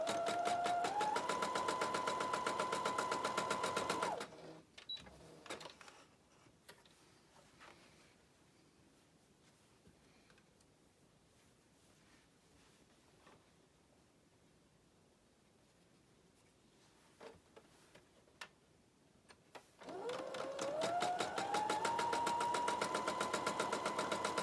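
A sewing machine stitches quilt blocks with a quarter-inch seam in two steady, whirring runs that ramp up in speed, separated by a long quiet stretch of faint handling clicks, with no talking.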